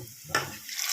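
A hot tempering hits a pot of tomato dal with a sudden sizzling burst that then settles into a steady hiss, short and close with no voices.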